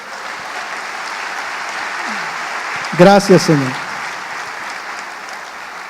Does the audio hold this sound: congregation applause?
yes